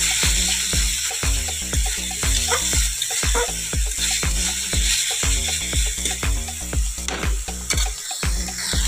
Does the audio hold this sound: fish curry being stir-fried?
yes